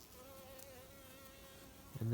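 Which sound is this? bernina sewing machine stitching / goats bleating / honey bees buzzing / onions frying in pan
honey bees buzzing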